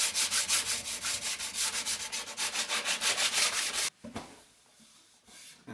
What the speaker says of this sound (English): we'll just start sanding these sides off.